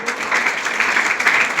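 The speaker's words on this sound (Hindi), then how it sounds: "तालियां कम बज रही है" An audience at a business training session claps for a short stretch, a dense, moderately loud patter of many hands at an even level with no voices over it.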